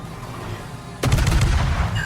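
Naval guns of the Soviet warship Kiev fire in a warship video game: after a second of low background rumble, one sudden loud boom rolls out into a sustained rumbling roar.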